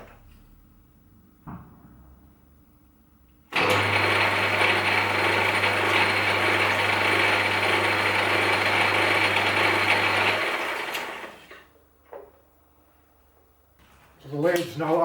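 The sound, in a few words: Myford S7B lathe running in back gear at 130 RPM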